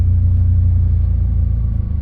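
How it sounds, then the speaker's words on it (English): A 1998 Eclipse GSX engine with a crank-no-start fault idles steadily with a deep, low rumble, close and continuous, with a slight unevenness near the end. "the car is running now"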